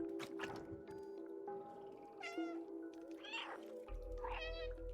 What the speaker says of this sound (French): Des miaulements juste pour troller.